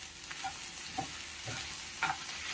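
Okra (bendakaya) sizzles softly as it fries in a pan, with a steady faint crackle and a few clinks of stirring spaced about every half second.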